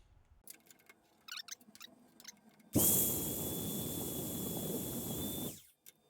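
A magnetic drill fitted with a twist bit adapter bores into steel plate, starting abruptly with a loud, high steady whine and grinding roar that holds for about three seconds before winding down, after some quiet setup clicks.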